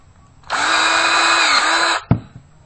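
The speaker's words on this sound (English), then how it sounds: "Once again, we're going to use our cordless rivet tool. We're going to set the exploder." A cordless rivet tool whirs loudly for about a second and a half while setting an exploding split rivet, then stops with a sharp snap and a short clatter.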